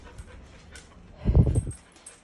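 A flat-coated retriever of very dark chocolate color, close by, gives a brief cluster of soft huffing pants and whimpers in the middle of an otherwise quiet stretch.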